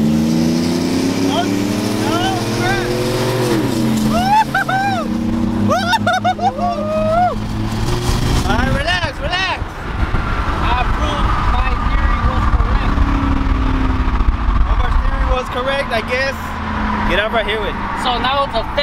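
A pickup truck with a V6 engine roars loudly through hard acceleration while racing another truck, engines revving with rising and falling tones alongside rushing road noise, as people shout and cheer over it.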